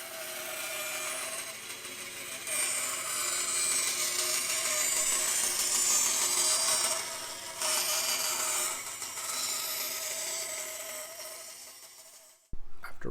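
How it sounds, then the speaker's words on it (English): A bandsaw roughly cuts a curve out of a veneered wood panel for a sailboat lounge chair, making a steady, fairly loud whining rasp that lasts about twelve seconds and then cuts off abruptly with a brief clunk. "After roughly cutting out the curve at the bandsaw"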